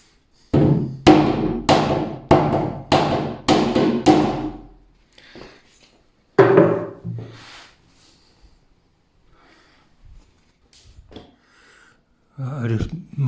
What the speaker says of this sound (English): I just massaged this bit of wood here with the hammer.